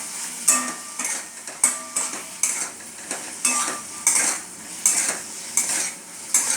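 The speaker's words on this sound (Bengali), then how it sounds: "দিয়ে আমি ভালো করে নাড়ালাম" Potatoes with salt, a little sugar, garam masala and coriander leaves being stirred in a pan for vegetarian aloo dum, giving a steady run of close scraping, clinking strokes about every half second over a light sizzle.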